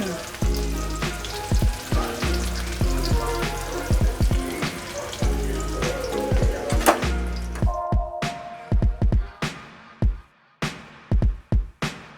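Garlic deep-frying until crispy in hot oil, a steady close sizzle punctuated by sharp clinks and stirring knocks, the frying hiss fading in the second half while utensil taps continue.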